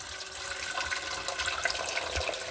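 Cold tap water runs steadily over unfertilized chicken eggs from an incubator in a sink, a continuous close splashing rush with small irregular drips and no talking.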